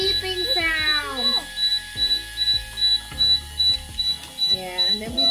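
A STEM action-circuitry robot spinner toy gives off a steady series of short, high electronic beeps at a regular pace, heard close by under people talking.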